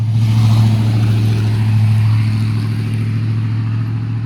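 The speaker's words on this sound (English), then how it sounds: "That was a loud truck cruising by." Loud truck cruising by, a heavy low engine drone with a strong steady hum that fades slightly toward the end, no voices over it.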